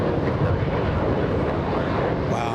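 Lufthansa Boeing 747 airliner at LAX airport, a continuous loud jet engine roar with wind rumble, steady throughout a short stretch.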